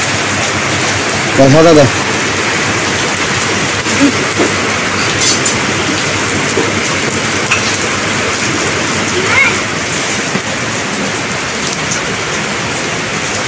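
A heavy downpour pours down on a roadside, a loud, dense hiss of rain that never lets up, with a few brief clinks and short bursts of nearby talk over it.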